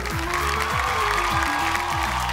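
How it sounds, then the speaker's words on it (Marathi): Studio audience applauding on a Marathi TV game show, a dense steady clatter of clapping close and loud throughout, with background music underneath. "एकदा जोरदार टाळ्या होऊन जाऊ देत."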